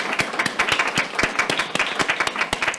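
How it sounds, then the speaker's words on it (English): A committee meeting audience claps for a speaker, a steady run of sharp, distinct claps from a modest group, fairly close and without talk for about three seconds. "Can we just have a round of applause for him?"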